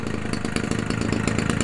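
A Homelite 30cc two-stroke racing engine, hand-started and fitted with a rebuilt Zama carburetor from a 38cc chainsaw and an old-style Homelite muffler, runs steadily at close range with a loud, buzzing rasp and no one speaking.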